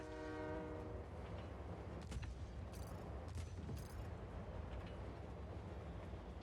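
A train in the video game Just Cause 4 rumbles steadily with a horn sounding near the start, joined by metallic rail clanks and squeals over a continuous loud mechanical drone.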